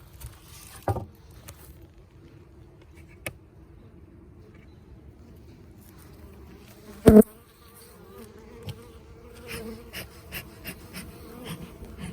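A steady low drone of many honeybees buzzing in a hive fills the air, with occasional knocks and bumps nearby.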